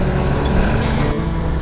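A sailboat motors under its diesel engine, a loud, steady drone with a constant low hum and broad rushing wash that holds evenly throughout, with no voices.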